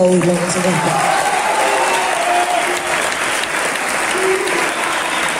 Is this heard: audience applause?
yes